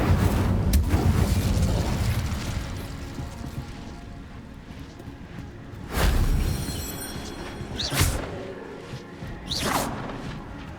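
An Incendio fire spell cast in the video game Hogwarts Legacy: several loud, rushing fiery bursts flare up one after another over a low rumbling background, with no talking.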